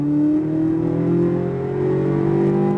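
A Corvette Z06 at full throttle on a race track at SpeedVegas, its engine a loud, steady droning roar that climbs slowly in pitch with no break, heard from close by.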